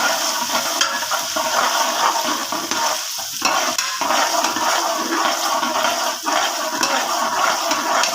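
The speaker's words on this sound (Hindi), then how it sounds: "लहसुन अदरक को गोल्डन होने तक पकाएंगे।" Garlic ginger paste fries in oil in a pressure cooker for matar pulao, giving a continuous bright sizzle with small crackles and spatters that hold steady throughout, with no talking.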